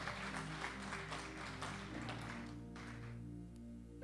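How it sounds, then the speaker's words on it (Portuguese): Church congregation applauding during a Portuguese-language worship service, a steady dense patter of clapping that carries on with sustained music or organ tones underneath and eases slightly toward the end. "aplaudindo a Jesus porque Ele é bom."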